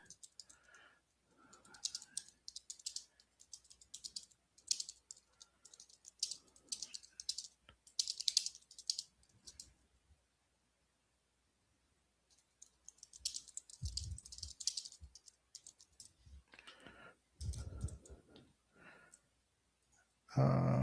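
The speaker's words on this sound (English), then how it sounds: "let me go ahead and type this in the Discord as well" Someone types on a computer keyboard in quick bursts of close clicking keystrokes separated by short pauses, with a long silent gap in the middle and a few louder thumps near the end.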